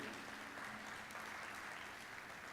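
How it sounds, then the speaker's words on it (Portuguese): Church congregation applauds the Lord at a sermon, a continuous even roar of clapping from many hands, fairly distant and soft in level, with no talk over it. "Pode aplaudir o Senhor bem forte de todo o seu coração aí."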